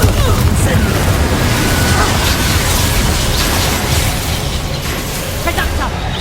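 Incendio and Confringo spells cast in Hogwarts Legacy: loud, dense fiery blasts and booming bursts packed together in a continuous barrage, with sharp pops scattered through.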